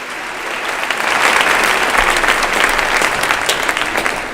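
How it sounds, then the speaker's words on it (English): Loud, sustained applause from a large audience at a school band and choir spring concert, a dense wash of clapping that swells early and continues evenly to the end. "So give a round of applause for that"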